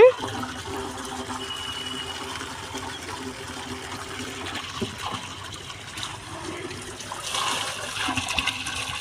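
Water runs steadily from a hose pipe outdoors in a garden, a soft continuous rushing and trickling flow that swells slightly toward the end.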